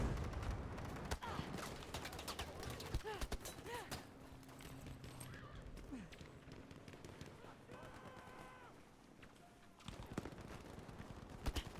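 Sniper rifle shots in the shooter game Battlefield V, several sharp separate cracks spread across a busy battlefield din with chirps and scattered noise, with a voice talking throughout.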